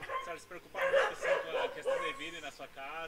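Dogs barking and yipping in a rural riverside neighbourhood threatened by flooding, several short close barks mixed with whimpers, heard alongside people talking.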